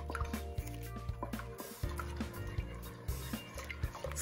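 Homemade barbecue sauce with peppers and onions gets stirred in a pot, giving wet, sloppy squelches and drips that keep coming in an uneven rhythm, close and fairly loud, with a low hum beneath and no talking.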